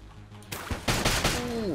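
Explosions from the twin-stick shooter Enter the Gungeon burst out as a loud cluster of booming blasts, a rapid run of hits building in the second half amid game sound, with no talk.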